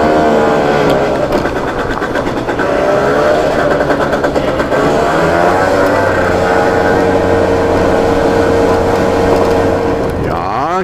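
Motor scooter riding along a road in Salda, its engine droning steadily and loud throughout with harmonic whine, no talk over it.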